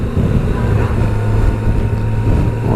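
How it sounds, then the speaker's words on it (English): A Yamaha FJR1300 motorcycle's four-cylinder engine drones steadily while riding, a smooth low-pitched hum heard close and loud under heavy wind rush, with no break across the clip. "Beautiful creamy 4-cylinder engine, smooth as you like, pulls like a train"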